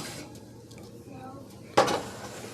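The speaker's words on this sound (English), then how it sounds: "now it's time to take the cake out the oven" A cake pan lifted from an oven: soft kitchen rustling and low voices, then one sharp metallic clank of the pan near the end.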